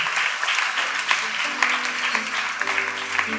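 A church congregation claps together in steady, dense applause that fills the space, while a voice and music tones carry underneath.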